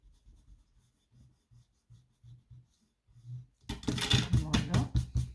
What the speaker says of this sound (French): le trait qu'on avait fait, on va le gommer